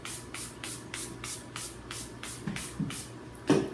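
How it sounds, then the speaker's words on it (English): Rose water mist sprayed onto a face in a rapid series of about ten short, soft hissing bursts, evenly spaced and close by, followed by a faint bump. "spray all over my face"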